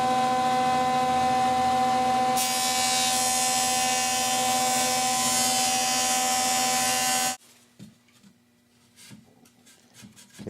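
A milling machine cutter head takes fine, light cuts on a spline, giving a loud steady mechanical whine with a bright rising tone that runs several seconds, then stops abruptly, leaving faint shop clatter.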